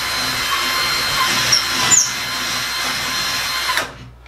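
A power drill runs steadily while widening a hole in bathroom drywall for a wall anchor, a close, continuous whine with a brief squeal near the middle before it stops abruptly.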